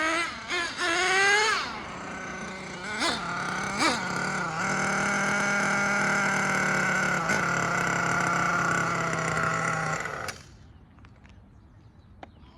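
MGT car with a 5.9 engine running and changing gear, a steady droning engine tone that rises and dips through several revving shifts, holding at a sustained pitch before cutting off abruptly near the end.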